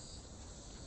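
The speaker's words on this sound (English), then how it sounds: "those are cicadas." Cicadas drone steadily on a Hong Kong mountain path, a dense, faint, continuous buzzing with no other sound.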